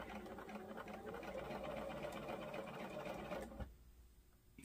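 Sewing machine runs in a steady whirring burst for about three and a half seconds while piecing a quilt block, then stops abruptly, leaving quiet room tone.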